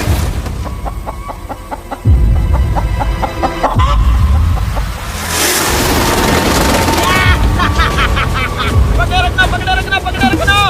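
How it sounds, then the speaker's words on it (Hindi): Hen caught on a remote island, clucking and squawking in short bursts amid rustling and handling noise, with people talking over it. "मैंने मुर्गी पकड़ ली।"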